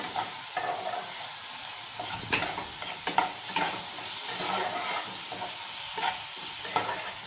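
Chicken korma spices and mace sautéing in a pan, a soft steady sizzle broken by several sharp clinks and scrapes of a spoon stirring against the metal, close and without talk.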